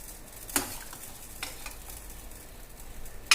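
Chicken pieces are stirred into a milky white gravy in a pan, giving a soft steady simmering hiss broken by a few sharp scrapes of a spoon against the pan, with no talking.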